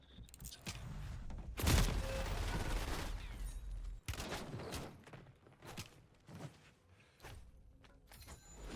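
Call of Duty Warzone gunfire: a dense, loud volley of shots near the start, then scattered single cracks and short bursts at varying distances, with a brief voice mixed in.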